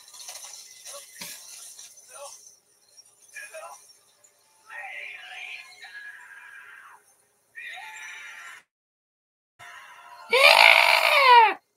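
A character in the movie Pixels lets out a piercing, loud scream near the end, following quieter stretches of scattered voices and shrill vocal sounds.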